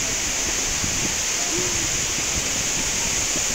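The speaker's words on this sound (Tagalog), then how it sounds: "The waterfall. That's so nice." A waterfall in Taipei gives off a continuous, dense hiss of falling water that stays steady and fairly loud, with a few faint voices nearby.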